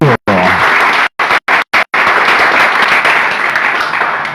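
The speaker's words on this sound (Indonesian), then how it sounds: "Tepuk tangan nih" Applause from an audience at a santri exhibition event in Pamekasan, with dense sustained clapping broken by several brief cuts, loud and close throughout.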